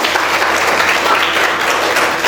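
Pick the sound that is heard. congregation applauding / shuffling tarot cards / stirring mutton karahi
congregation applauding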